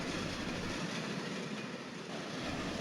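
Inside a Vande Bharat Express running from NJP to Howrah, a steady, loud rumble of wheels and carriage fills the cabin, with a constant broadband roar and no voices.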